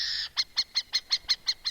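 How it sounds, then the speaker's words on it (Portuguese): An owl flying overhead gives a run of eight short, sharp, high screeching calls at a steady quick rhythm, following one longer shrill note, loud and close with no talking. "ele percebe uma coruja sobrevoá-lo e emitir um barulho"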